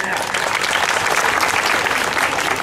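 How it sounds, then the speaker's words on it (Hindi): Audience applause at a hospital Independence Day celebration, honouring a long-serving staff member: dense, steady clapping from a crowd, loud and sustained for the whole stretch without pause. "तालियां तालियां।"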